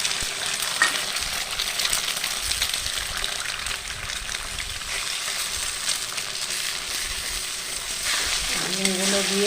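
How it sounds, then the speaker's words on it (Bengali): Eggs frying in a pan alongside Maggi noodles give a steady, close broadband sizzle throughout, with a brief voice-like tone near the end. "ডিমগুলো দিয়ে এটাকে ভালো করে ভেজে দেব।"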